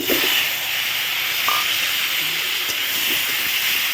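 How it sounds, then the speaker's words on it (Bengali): Potatoes hiss steadily in hot oil after frying cauliflower, a continuous close, fairly loud sizzle with a few faint clicks and no speech. "আলুটা দিয়ে দিই আলু ভেজে নেব"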